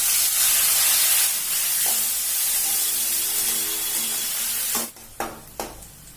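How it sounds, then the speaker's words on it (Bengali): Sliced onions frying in hot oil seasoned with dried red chilli and bay leaf, a loud continuous sizzle and hiss that drops off near the end, followed by a few sharp clinks of a utensil against the pan. "পেঁয়াজটা ভাজা হয়ে গেছে,"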